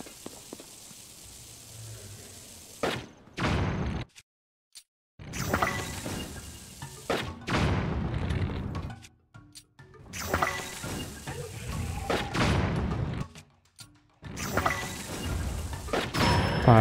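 Bombs go off in Zelda: Tears of the Kingdom as a series of loud booming blasts and crashes, each burst separated by brief near-silent gaps, with a faint game soundscape between them.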